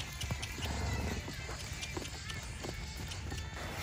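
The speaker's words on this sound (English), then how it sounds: "just cantering with no hands because she's a pretty safe horse" A mustang from a makeover competition cantering, hooves striking in a quick, regular three-beat rhythm, fairly close, with soft background noise and a voice faintly present.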